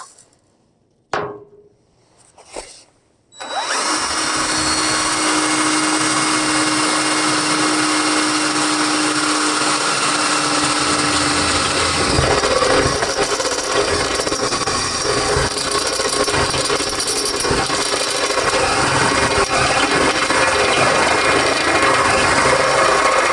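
Power drill boring two holes while installing cable X bracing in a shop, a sustained loud whine running steadily for about twenty seconds after a few short starting bursts.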